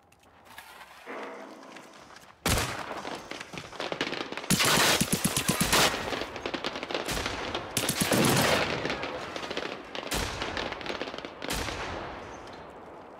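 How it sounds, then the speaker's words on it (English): Robots in the video game Generation Zero fire guns in loud, sustained bursts of rapid automatic gunfire, several volleys overlapping after a quieter start, close and intense with no talking. "They're firing everywhere."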